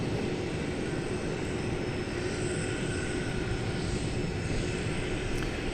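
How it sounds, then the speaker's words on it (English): An older twentieth-century airliner lifts off a runway at DFW Airport after dark, its engines producing a loud, steady broadband roar that holds evenly throughout without pause. "A very snappy liftoff for that 20th century aircraft"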